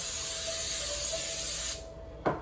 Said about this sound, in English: I will use coconut oil. Why not? Spray it down.